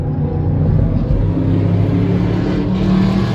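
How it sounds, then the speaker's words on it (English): A loud, deep engine roar rumbles steadily throughout, like a powerful car passing close by, with no voices. "Very loud car."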